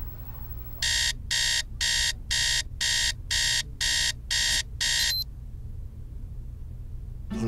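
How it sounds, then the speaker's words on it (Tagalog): An alarm clock set for early morning rings in nine evenly spaced, loud electronic bursts, then stops, leaving quiet room tone. "Isiset ko na 6:03 ng umaga itong alarm clock ko"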